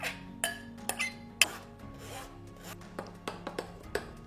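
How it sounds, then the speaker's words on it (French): Raspberry puree being pressed through a kitchen sieve, with a run of scraping, rubbing strokes and light clinks of utensil against mesh, fairly close and moderately quiet, no talking. "je vais la passer dans un tamis pour pouvoir faire une purée de framboise"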